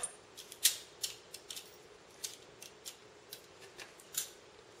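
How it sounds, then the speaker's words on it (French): Small rods pried out of a KS i950 bicycle seatpost with a utility knife make a series of sharp, close metallic clicks and snips at an irregular rhythm in a quiet workshop. "on va sortir les trois petites tiges à l'aide du cutter"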